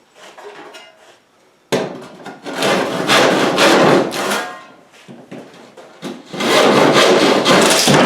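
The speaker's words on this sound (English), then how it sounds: "let's find the handsaw and we'll finish off the corners on the door there" A handsaw cuts the corners of a wooden chicken coop door, loud rasping strokes in irregular bursts, with a short pause before steady sawing resumes near the end.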